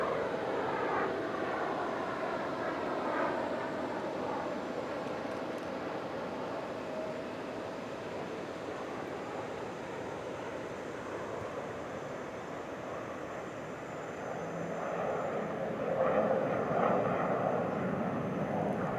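A military jet trainer in an aerobatic team display at a military and warbird airshow roars past from a distance, its broad engine rumble swelling and fading over wind-like background noise.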